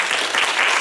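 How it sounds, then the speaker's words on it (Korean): A church congregation bursts into brief, dense applause to welcome a guest, a short, loud wash of clapping filling the room. "박수 환영하겠습니다."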